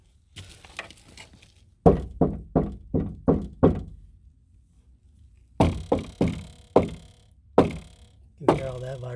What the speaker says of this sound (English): You can hear all that vibration.